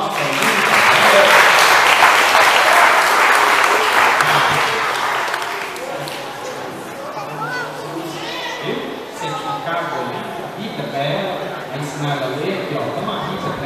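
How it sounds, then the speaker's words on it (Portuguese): Loud clapping from a group at a church presentation for several seconds, then dying away into children's voices and chatter. "Vamos dar uma salva de palmas para mim."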